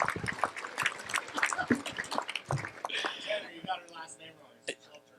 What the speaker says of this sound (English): Everyone, a round of applause for Rochelle.